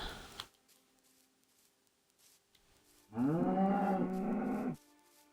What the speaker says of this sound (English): Move yourself, cow.